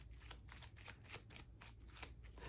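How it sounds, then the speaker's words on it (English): Cards riffle-shuffled during a solo GI Joe deck-building game, repeated rapid flutters in bursts of roughly three riffles, close and moderately quiet with a low hum underneath. "Shuffle those up."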